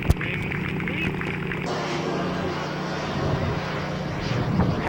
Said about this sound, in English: Halftime demonstration Saturday. A Raptor with smoke. Turbine.